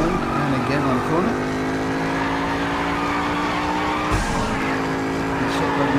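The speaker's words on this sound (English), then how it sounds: "Quick drift" A Jaguar F-Type drifts in the racing game Need For Speed No Limits, its engine droning steadily as tires squeal through a corner, a sharp shift partway through, with a voice talking over the loud continuous engine.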